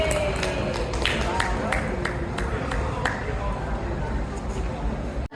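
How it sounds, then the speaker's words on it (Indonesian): An audience at a live-streamed discussion event claps in a dense, steady patter of many hands, moderately loud and sustained, with a few sharp pings and crowd murmur underneath before it cuts off. "Tepuk tangan dong."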